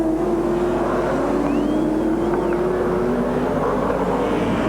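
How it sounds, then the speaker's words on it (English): Group A touring race cars roar past during qualifying at the 1996 Gold Coast Indy Carnival street circuit, a loud sustained engine drone with rising and falling pitch as they pass. "There goes Crompton through."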